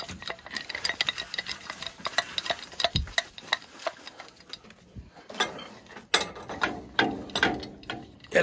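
A wrench ratchets in quick clicking bursts while a pipe fitting on a Burnham gas-fired boiler is tightened, the close mechanical ticks coming in short runs with brief pauses.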